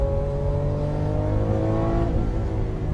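A Lamborghini Aventador LP700 engine pulls hard under acceleration, a loud, steady, dense roar with rising tonal harmonics throughout, heard close up without any talking.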